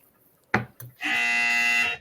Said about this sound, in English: he's got the dryer buzzer.